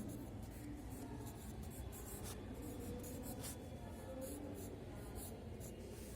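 A pen writing numbers on paper during a second-grade counting lesson, a faint steady scratching with small strokes over low background hum, no voices.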